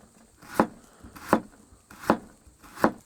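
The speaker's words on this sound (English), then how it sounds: "we're going to just cut these as fine as possible with a sharp knife" A sharp knife finely slicing vegetable spears on a cutting board for banh mi, four crisp, evenly spaced chops close up with quiet pauses between.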